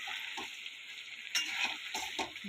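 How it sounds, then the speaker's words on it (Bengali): Maggi noodles frying in a pan, a steady hiss of sizzling oil with light scraping and stirring taps over it, close and fairly quiet, with no talking. "এই যে এটা হালকা জাস্ট ফ্রাই যেই হবে, আমি এই যে ম্যাগিগুলো দিয়ে দিলাম"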